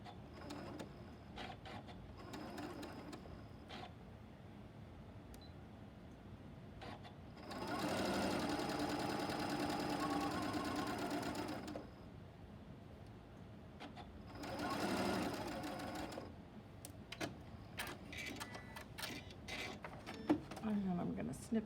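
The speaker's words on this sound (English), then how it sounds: "I'm just going to sew right onto this one" A sewing machine stitches a maple leaf quilt block in two clear bursts, one of about four seconds and a shorter one after, with quiet handling clicks and rustles of fabric around them.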